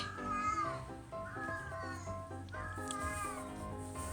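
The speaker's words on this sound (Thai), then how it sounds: "ถ้าได้ยินเสียงแมว" A cat meows repeatedly, several drawn-out, wavering cries in a row, fairly close and clear over faint background noise.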